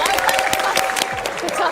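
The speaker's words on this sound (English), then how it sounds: "Should we give them a big round of applause?" A crowd at a GT World Series Manufacturers Cup watch party clapping and cheering for the race finishers, loud and continuous, with a voice speaking over the applause.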